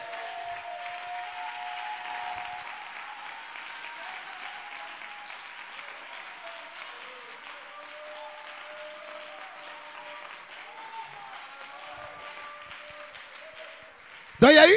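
A French-speaking church congregation applauds at length, a steady, moderately distant wash of clapping with voices mixed in, ending in a sudden loud burst close by.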